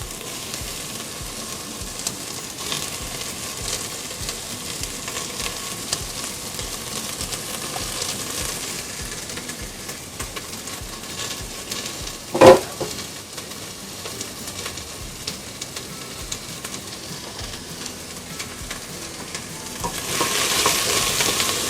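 Onions sizzling and frying in oil in a pot make a steady, moderate crackle throughout, with one sharp clink partway through and the sizzle swelling louder near the end.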